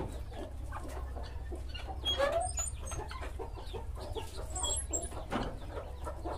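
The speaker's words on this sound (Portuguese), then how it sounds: "Vou dar aqui pros pintinhos." Hen and chicks at evening feeding time on a farm, soft repeated clucking with high chick peeps and scattered scratching sounds close by, over a low steady background hum.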